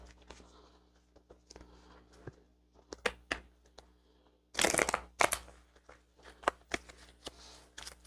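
Tarot cards being shuffled in quick riffles and soft taps, with a louder burst of flicking cards midway, close by and without talk.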